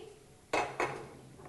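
A metal kadai set down on a second gas stove burner in a home kitchen, two sharp clanks of pan against the grate in quick succession, then quiet.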